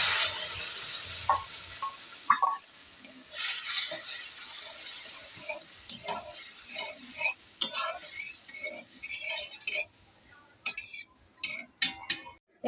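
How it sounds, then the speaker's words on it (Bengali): Boiled dal is tipped into a pan of fried spices and hisses loudly at first, then the sizzle settles and fades under spoon clinks and scraping, with occasional faint voices. "ডালটা এর মধ্যে ফেলে দিচ্ছি।"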